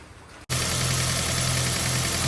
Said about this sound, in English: we're going to start the car and we're going to test power at the battery with a multimeter